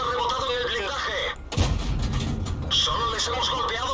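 A tank cannon shot ricochets off armour in World of Tanks, a sharp metallic bang cutting through ongoing battle noise, while someone talks over the game.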